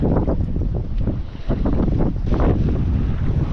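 Large storm waves pound a small fishing boat on open water while zander fishing, a continuous loud rush of water and wind buffeting the microphone with surging crashes throughout.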